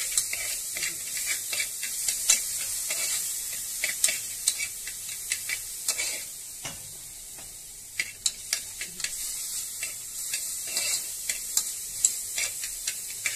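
Food fries and browns in a hot pan with steady sizzling hiss, punctuated by frequent sharp clicks and scrapes of stirring, close and fairly quiet, with no talking.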